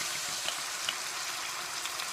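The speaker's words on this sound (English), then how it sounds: "I'm just checking on my mince. So as you can see, that's browning off nicely." Red wine poured into browned beef mince sizzling in a pan, a quiet, continuous frying hiss with soft crackles and a few small pops.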